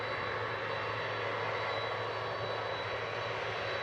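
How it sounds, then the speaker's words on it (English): A Boeing 767 freighter landing at Manchester Airport roars as a steady, even jet rumble with a thin high whine on top, sustained throughout at moderate distance, with no voices. "Big yellow freighter coming in to Manchester."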